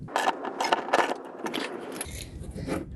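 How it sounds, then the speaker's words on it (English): A nut and split lock washer are tightened onto a garage door opener pulley, giving close, uneven metallic scraping and ratcheting clicks in irregular bursts, followed by a rougher grinding rasp. "And then we'll just tighten this down until that split washer compresses."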